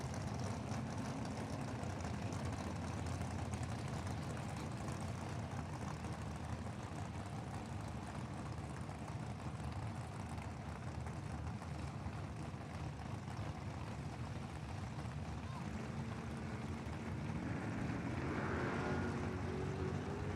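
Drag race cars, an Oldsmobile and a Mustang, rumble at the ANRA Summer Nationals, a steady distant engine roar filling the air with a rising note near the end.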